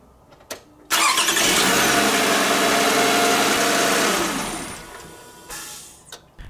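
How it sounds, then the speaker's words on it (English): A car engine cranks and catches with a loud burst, then idles steadily for a few seconds before the noise falls away, with faint clicks around it. "Then you want to start the car."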